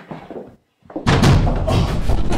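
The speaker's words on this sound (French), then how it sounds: "Tant pis pour le bruit, j'enfonce la porte." A door being forced open, a sudden heavy slam and crash after a brief quiet, followed by loud rattling and thumping as it gives way, with muffled voices just before.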